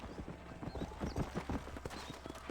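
Rapid, rhythmic hoofbeats of a galloping, out-of-control horse in the video game Red Dead Redemption, fairly close and steady, with a faint whinny-like sound in the mix.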